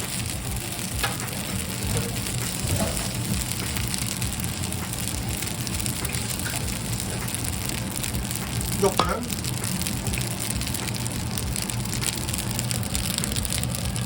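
A steady, gentle sizzle of Portuguese sausage frying in a pan continues throughout, with a few faint clinks and soft background noises.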